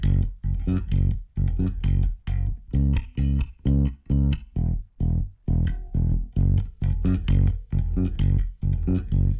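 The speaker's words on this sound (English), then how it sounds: "Here I'm also using DB Comp on the bass." Compressed bass guitar with a DB Comp plugin taming its peaks plays a driving line of short, punchy, evenly pulsed notes, thick and upfront with a gritty edge, no voices.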